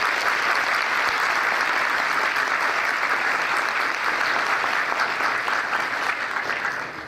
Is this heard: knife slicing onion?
no